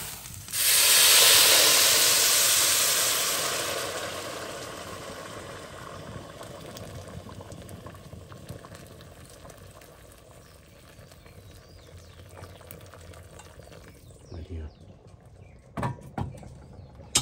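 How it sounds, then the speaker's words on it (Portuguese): A kettle of water boiling: a loud steamy hiss rises at the start and slowly fades into a soft bubbling simmer, with a few clunks near the end. "A água da chaleira já tá, já tá fervendo aqui, ó."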